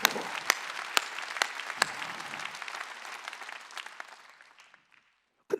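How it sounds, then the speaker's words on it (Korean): Church congregation at a Sunday service clapping hands hard, a dense burst of applause punctuated by sharp loud claps, thinning out and dying away to near silence before a final clap. "박수 세게 치라고"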